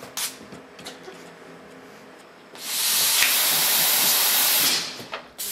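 A robot operates an aerosol spray can, which hisses steadily and loudly for about two seconds, preceded and followed by faint clicks and handling noises.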